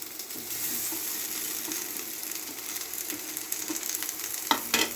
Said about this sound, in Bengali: মশলাটাকে একটু ভেজে নেবো ভালো করে পাঁচটা আলুকে বড় আলু মেখে রেখেছি চটকে রেখেছি বা দিয়ে দিচ্ছি